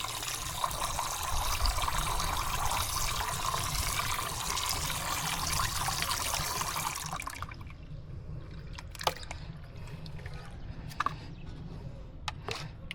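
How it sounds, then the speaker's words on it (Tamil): Water from a tap runs steadily into a glass tumbler for a moina culture, a continuous trickling pour that stops partway, leaving quiet drips and faint clinks. "ஒரு டம்ளர் கிளாஸில் தண்ணி ஊற்றினாலே போதும்"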